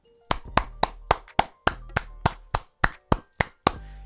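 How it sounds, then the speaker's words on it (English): Hand clapping, about a dozen separate sharp claps in a fairly steady rhythm, close and loud with nothing else under them. "Round of applause."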